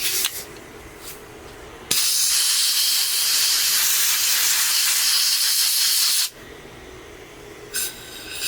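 A long, loud blast of compressed air hisses into the fuel tank of a 2006 Honda TRX300EX four-wheeler, sustained for several seconds between quieter stretches, with a short second puff near the end.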